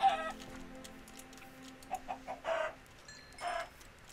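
Minecraft chickens give several short clucking bursts in the middle and near the end, moderately loud against quiet game ambience with no talking.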